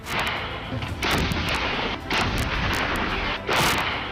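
An Atmos truck-mounted artillery gun fires a rapid series of loud, booming shots. The blasts run close together with brief dips between them and no talk.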